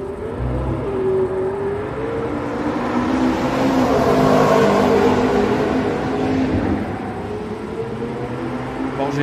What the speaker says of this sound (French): Porsche GT3.